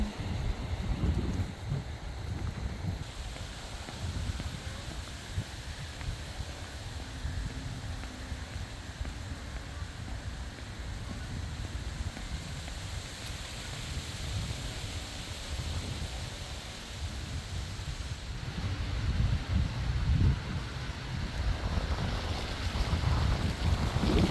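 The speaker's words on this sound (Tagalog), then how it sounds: "Nakaka-relax yung sound ng hangin" Autumn wind blows outdoors in Regina, Saskatchewan, a continuous rushing buffet with low gusty rumble across the microphone that swells louder toward the end.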